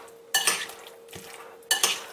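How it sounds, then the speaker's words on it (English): Guacamole ingredients are stirred in a bowl, with two bursts of scraping, clattering utensil-on-bowl mixing separated by a quieter pause, close up. "And then I mix it around again."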